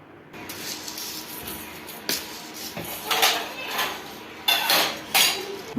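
Horlicks is mixed with sugar and milk for children: a spoon clinks and taps against a cup or glass in irregular bursts, with louder clatters near the end and faint kitchen noise between them.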